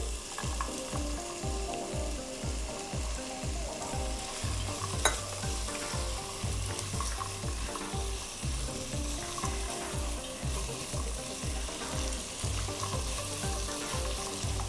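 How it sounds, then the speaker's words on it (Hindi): Fresh peas sautéing in a pan for Bengali khichdi make a continuous close sizzle, with a steady rhythm of spatula stir strokes throughout and no talking. "तो फर्स्ट यहाँ पे थोड़ा सा मटर को डाल के सौटे कर लेंगे"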